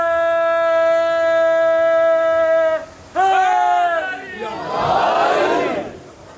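A large crowd at a religious gathering shouts a loud, sustained slogan response in unison, breaks off briefly, then roars again in a swelling wave of voices.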